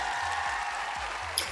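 Brief, steady patter of applause for a guest joining remotely during a live online veterinary talk, filling the whole short moment evenly, with no voices.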